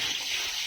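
Water pours steadily into the hens' drinking container, a short continuous splashing gush that is close and even for its brief duration.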